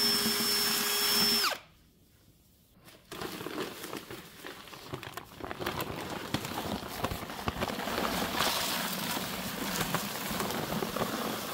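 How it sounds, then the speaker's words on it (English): A handheld power drill runs steadily at close range, its whirring and grinding continuous for several seconds after a brief quiet pause. "Fortunately, I got a drill."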